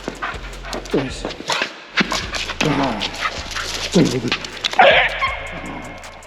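A dog plays in the snow, with close panting, whimpers and short yips scattered between bursts of a person talking.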